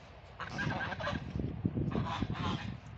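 Geese honk repeatedly in a noisy, overlapping chorus among farmyard ducks and chickens, loud and close, with no talking.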